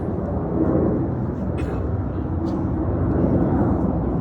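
Propeller planes from Japanese aircraft carriers passing over Pearl Harbor, heard as a steady, broad engine roar that stays loud and constant throughout.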